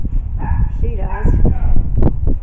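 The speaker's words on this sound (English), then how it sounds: "Ellie Mae's bark does sound like it." A dog gives a few short, yelping barks and whimpers close by, mixed with people talking over it.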